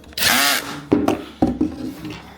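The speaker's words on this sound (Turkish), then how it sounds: "İnşallah bu ses matkaptan gelmiyordur. Evet matkapın içinden geliyor." A power drill whirs in a steady burst, then gives a couple of shorter whines as it starts and stops.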